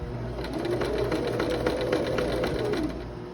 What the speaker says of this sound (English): I'm sewing over all of those gathers, so it almost looks like it's like folding over as you sew it.